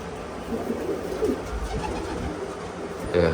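Low pigeon cooing murmurs through a steady background hum, with a louder burst of coos near the end.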